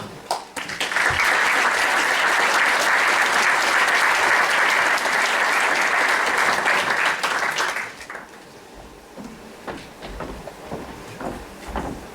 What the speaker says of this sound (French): Je demande à nos intervenants de nous rejoindre, vous pouvez les applaudir.